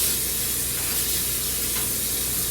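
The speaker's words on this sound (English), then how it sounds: "spray the inside of your baking" Cooking spray hisses steadily from an aerosol can into the bottom and sides of a baking dish, a continuous close hiss running unbroken for the whole stretch with no talking.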